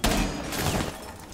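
A burst of rapid gunfire in Rainbow Six Siege, loud and close. The shots blur into a dense rattling roar that starts abruptly and carries on without letup.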